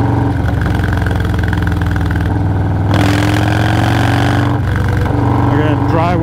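A motorcycle engine droning continuously while the bike is ridden at speed over a country road, loud and close, with a steady mid-pitched hum that swells slightly partway through as the throttle changes.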